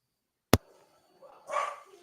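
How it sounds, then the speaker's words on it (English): A dog barks once, sharp and fairly close, followed after a pause by a softer, drawn-out whine or vocal sound in an otherwise quiet room. "I think my dog's barking now."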